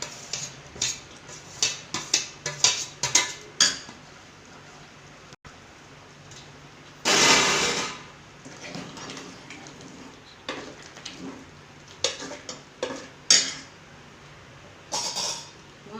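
Potato pieces dropped into a pot of vegetable kurma with cooked brinjal, drumstick and tomato, giving scattered close taps and clatters, one longer hissing burst, then more intermittent knocks.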